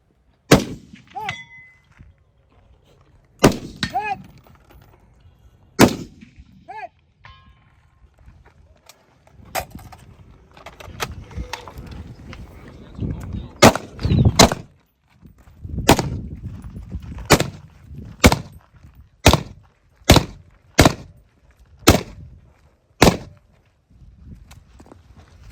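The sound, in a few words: rifle shots at targets in a 2 gun match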